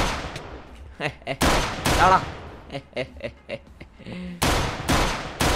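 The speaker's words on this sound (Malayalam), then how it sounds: "നമ്മൾ എല്ലാത്തിനും വെടി വെച്ചിട്ടാണ് ഗൈസ് എല്ലാത്തിനും" Guns firing in the video game Minecraft during a prison escape, loud sharp bursts of gunshots in several clusters, some in quick succession, with someone talking between and over them.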